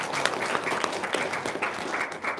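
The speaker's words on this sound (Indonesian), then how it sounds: "Tepuk tangan dong, luar biasa." A crowd applauds with dense, steady clapping that holds at a fairly loud level throughout, with no break.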